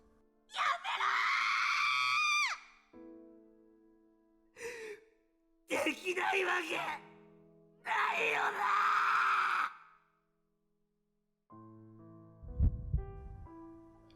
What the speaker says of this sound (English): I twisted my body upward and screamed.